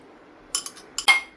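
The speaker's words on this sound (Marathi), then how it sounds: "तर आता हे परत मिक्स करत आहे चमच्याने" A spoon mixes avocado sandwich filling in a bowl, giving a handful of quick, light metallic clinks in two short clusters, close by and otherwise quiet.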